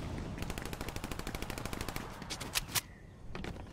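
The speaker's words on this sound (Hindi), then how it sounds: "मेरा दोस्त को कोई गोली चला दिया रे बाबा।" Automatic gunfire in the video game Fortnite, a long rapid burst of evenly spaced shots followed by a few louder single bangs, steady and moderately loud with no talking.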